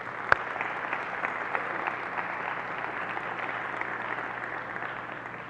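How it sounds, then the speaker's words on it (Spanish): An audience applauds students of an HTML5 course at a branding talk in Guatemala: steady, dense clapping fills the whole stretch, with one sharp, close clap near the start. "Por favor, un aplauso para nuestros estudiantes de HTML5."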